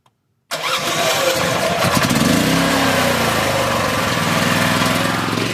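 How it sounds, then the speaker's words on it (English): An RV generator cranks briefly, catches and settles into a loud, steady engine drone that runs on without a break. "Now when I press the start button and it starts turning over, and once it turns over and it's running"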